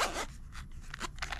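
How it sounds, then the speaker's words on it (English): A zipper on a carrying case for a FLIR ONE Gen 3 thermal camera runs in a few short, close, quiet pulls with brief pauses between them, and no one speaks. "Nice zipper."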